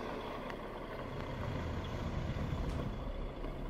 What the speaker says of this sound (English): The special convoy carrying a 115-foot wind tower travels on a narrow road